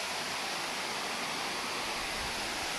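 Steady, loud broadband rush of a waterfall close by, a continuous roar with no breaks and no voices over it.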